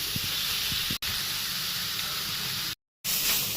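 A pot of Maggi noodles boils on the stove, giving a steady hissing, bubbling wash of noise that is broken by two abrupt cuts.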